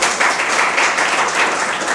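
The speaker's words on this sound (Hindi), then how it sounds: "तो ताली तो बजाओ कम से कम." Audience at a lecture claps steadily for about two seconds, a dense, even patter of many hands.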